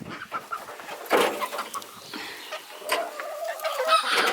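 Backyard chickens, a hen and a young rooster, cluck and call in short, irregular bursts close by, with overlapping squawks and chatter throughout.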